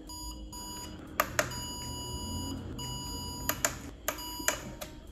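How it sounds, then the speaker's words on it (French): A Silvercrest kitchen scale from Lidl sounds its timer alarm, a string of steady electronic beeps with sharper chirps breaking through over a low background hum. "dès que le minuteur s'arrête, on a une sonnerie"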